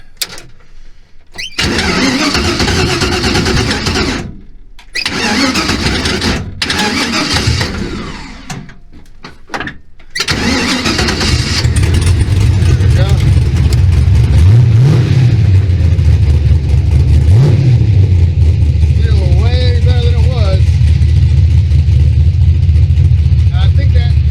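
5.3 LS V8 in a Chevy Vega cranking in several bursts before catching, then idling loudly close by and being revved a few times, with voices talking over it.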